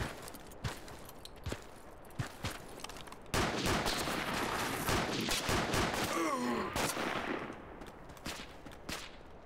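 Machine gun fire in Project Reality 2, scattered single shots giving way to a long sustained burst of rapid automatic fire, fairly close, then tapering back to sporadic shots.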